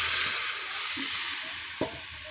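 Potato curry bubbling and sizzling in a pan after water goes in, a steady hiss with one sharp utensil knock near the end.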